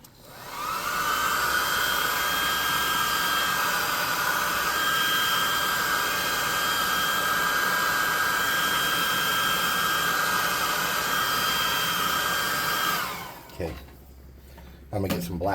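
A hair dryer blows steadily and loudly at close range for about thirteen seconds, drying painted cardboard miniature pieces for a tabletop RPG naga model, then cuts off abruptly, leaving a quieter room.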